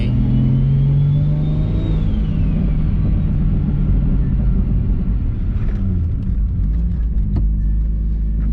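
A single-turbo BMW 335i tuned to about 20 psi of boost accelerates hard on a drive, its engine rising in pitch and then settling into a deep, loud rumble with road noise.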